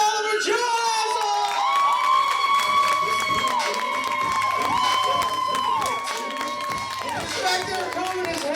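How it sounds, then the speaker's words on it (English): A stand-up comedy audience claps and cheers loudly with whoops and whistles, a dense continuous roar of applause filling the room as the comedian is brought on stage. "Big round of applause"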